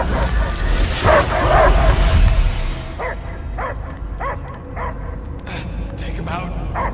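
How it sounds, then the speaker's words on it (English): Dog barking in the video game Marvel's Guardians of the Galaxy, a series of short repeated barks and yips in a steady rhythm, heard after a loud rumbling passage with voices and game effects underneath. "I hear only barking."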